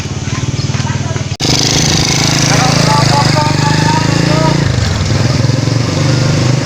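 An old, worn-out motorcycle engine runs loudly close by, chugging with a rough, steady idle rhythm, briefly cutting out before revving on; people talk over it.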